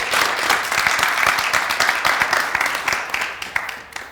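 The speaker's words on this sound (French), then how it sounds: "je demande à notre cher public qui est avec nous de l'applaudir très fort" A studio audience on a FESPACO television program applauds a guest with loud, dense clapping that swells early and tapers slightly, with sharper individual claps near the end.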